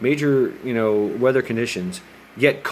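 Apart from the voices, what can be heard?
None of the usual background noises is heard.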